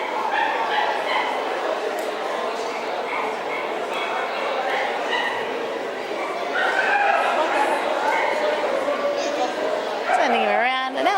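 Baby puppies yip, whimper and bark at a royal dog show judging ring, scattered small high yelps over a steady murmur of crowd chatter, with a closer squeaky whine near the end.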